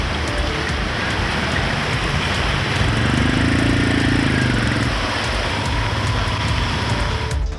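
Heavy rain pours down in Chennai during Cyclone Ditwah, a loud, dense, unbroken hiss, while a vehicle engine hums by partway through.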